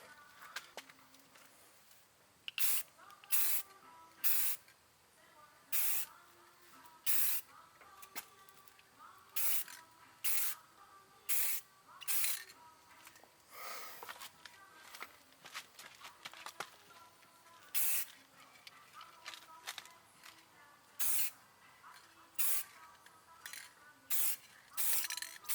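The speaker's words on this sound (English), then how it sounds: "We're going to go ahead and add the high heat clear coat." An aerosol can sprays high heat clear coat onto an Audi Q5 in many short, light bursts spaced a second or two apart, fairly faint, with a quiet background between passes.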